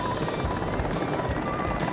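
A tourist helicopter over the Nalati scenic area in Xinjiang, its rotor making a steady, loud rhythmic chop and engine whine throughout.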